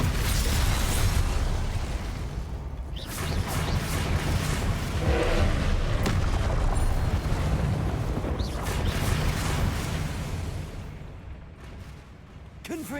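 Confringo blasting spells going off in Hogwarts Legacy: a string of heavy booming blasts and crackling bursts over about thirteen seconds, loud and close, with quieter gaps between volleys and spell voices mixed in.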